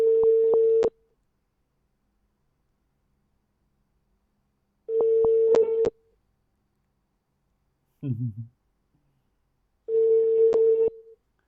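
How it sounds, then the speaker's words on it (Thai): Telephone ringback tone during an outgoing call, waiting for the other end to pick up: a steady electronic tone in three separate bursts about five seconds apart, loud and close, with one short low voice-like sound between two of them. "โทรไปแล้วนะ รออาจารย์รับนิดนึงครับ"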